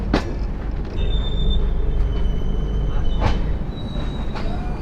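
Sagardari Express passenger train pulling into Khulna station, a steady loud rumble of rolling wagons with wheel squeals rising now and then and sharp clanks near the start and middle.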